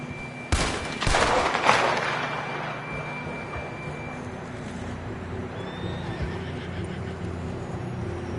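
A horse in Red Dead Redemption 2 lets out a loud, close whinny near the start, then fades into a steady outdoor game soundscape with a faint high tone and light background noise.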